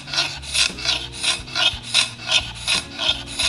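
A hand floor scraper shaves cross scratches out of a wood floor, making a close, steady series of harsh rasping strokes, about two or three per second, with no talking.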